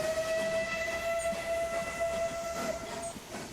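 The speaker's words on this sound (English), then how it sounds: "Yeah, it's a bit of a redundant train service." Train rolling along in the Transport Fever video game, a steady rail rumble with a sustained whistle-like tone held throughout, fairly loud and alone with no talk.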